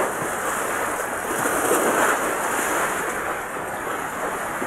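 Steady rushing of sea waves and surf under heavy cloud, mixed with wind noise, a continuous broadband wash close to the microphone, with no one speaking.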